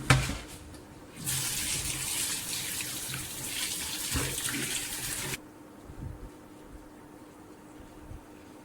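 Tap water runs in a steady splashing stream for several seconds over peeled bitter gourds, then shuts off, leaving faint dripping and handling noises.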